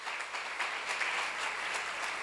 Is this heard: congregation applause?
yes